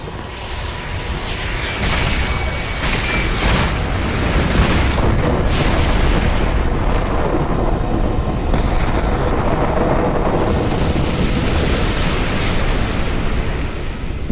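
Many missiles explode during The Hundred Line -Last Defense Academy- video game ending, a loud, continuous rumble of booming blasts and bursts that rolls on without a break and with no talking.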